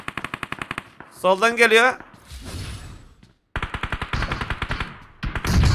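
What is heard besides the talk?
machine gun fire in a video game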